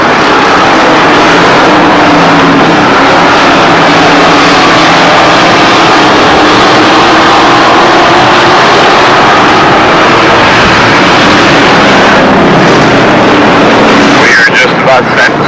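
Racing truck engines roar steadily on an oval track in the American Trucks Series before a 35-lap race, a loud continuous drone of many engines with crowd noise and an announcer talking over it.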